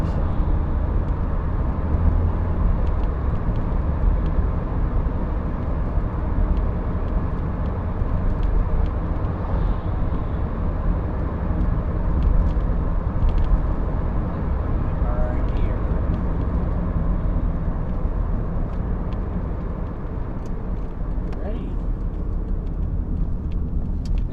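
Cabin road noise inside a Toyota Corolla running on worn-out tires, a steady broad low rumble and hiss that holds for the whole stretch at moderate level, with occasional faint clicks and bumps.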